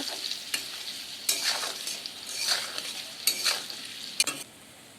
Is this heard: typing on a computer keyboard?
no